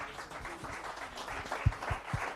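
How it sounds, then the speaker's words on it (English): Brief applause from an audience at a sustainable business workshop and expo, honoring a panel; scattered claps with a few sharper hits, fairly faint and distant. "A round of applause to our panelists."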